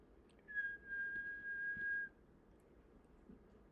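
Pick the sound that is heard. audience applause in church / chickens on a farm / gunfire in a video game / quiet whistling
quiet whistling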